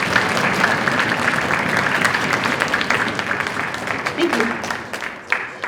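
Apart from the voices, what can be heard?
audience applause at a school concert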